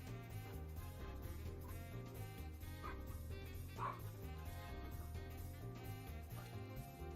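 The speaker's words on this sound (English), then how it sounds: "My dog is going crazy" A dog barks and yips in short bursts in the room while a Minecraft game plays, the barking mid-loud over steady game music with no speech on top.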